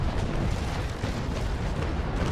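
Cannon broadside exchanged between sailing warships in the naval combat game Naval Action, a continuous loud rumbling roar of heavy booms and blasts filling the whole stretch, with no talk over it.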